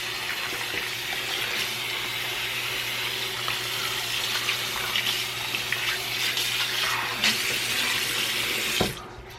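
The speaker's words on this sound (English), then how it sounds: "and then you want to rinse." Water running steadily from a tap into a sink during rinsing, a loud, close, continuous splashing flow that stops abruptly near the end.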